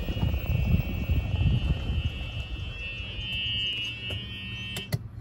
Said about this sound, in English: Got your backup buzzer.